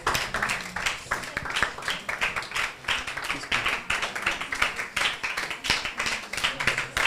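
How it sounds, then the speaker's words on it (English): An audience at a teen tech summer program claps to welcome a guest, a steady, fairly loud run of close hand claps with a pulsing, almost rhythmic beat that continues without pause. "Keep clapping now."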